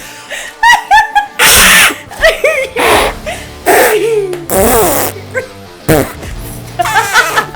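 Comedic fart sound effects, several short blasts in quick succession mixed with laughter, barking and playful yelps, loud and up close with voices joining in.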